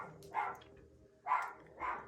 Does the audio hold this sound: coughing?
no